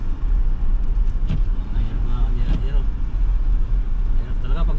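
Cars and other traffic drive along a snowy road in Ontario during a snowstorm, a steady loud roar with passing swells, heard from inside a vehicle while people talk.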